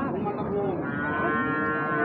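An Australian cross bull at a cattle market gives one long, loud, close moo that holds for about two seconds.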